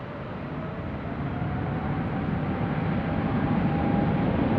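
An airliner rolls down runway 24 Left at Los Angeles International Airport for a departure to Paris, heard from a distance as a steady, broad engine roar that slowly swells, with a faint whine over the rumble.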